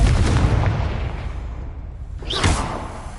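A Confringo blasting spell in the video game Hogwarts Legacy, a loud booming burst that rumbles and fades, then a sharp whooshing crack at about two and a half seconds, heard alone without talk.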